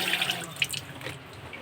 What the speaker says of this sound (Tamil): கை கழுவிக்கலாம்.